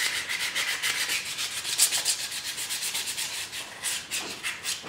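A wooden handle is sanded by hand with 220 grit sandpaper, giving a steady rhythmic rubbing, stroke after stroke, close and fairly loud with no talking.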